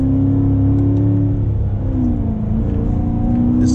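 A 2016 C7 Corvette Stingray pulls hard in second gear, its V8 engine droning loudly and steadily with a rising, wavering pitch as it revs through the power band, heard from inside the car.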